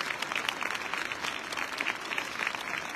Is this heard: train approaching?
no